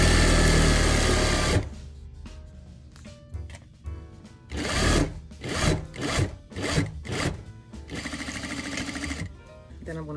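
A sewing machine top-stitching a fabric clutch bag: a loud steady whir at the start, then several short bursts of rapid stitching separated by pauses, with quieter handling noises between.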